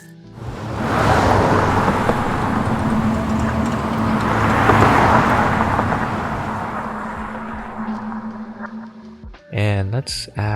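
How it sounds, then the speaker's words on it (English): A car passing by, used as a sound effect in sound design, swelling in and fading out in a long broad whoosh with a low rumble, followed by a brief burst of other sounds at the end. "This will be the car passing by sounds."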